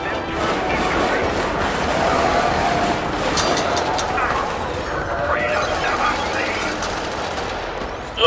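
Rapid, sustained automatic gunfire in Helldivers rattles on continuously as a dense wash of shots and impacts, a busy battle mix with no clear pauses.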